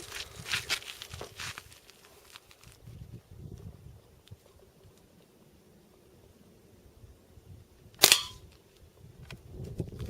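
A single BB gun shot fired outdoors, one sharp crack well apart from quieter background rustle and faint distant voices earlier on.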